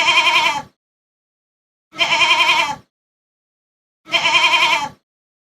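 A goat bleats three times, each call a loud, wavering cry lasting under a second, separated by even stretches of silence with nothing else around.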